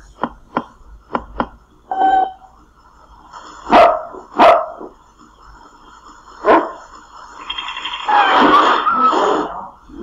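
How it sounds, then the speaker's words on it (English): A dog barks several times nearby, with short sharp yaps and a few louder, fuller barks scattered unevenly, ending in a longer, noisier outburst. "Dog."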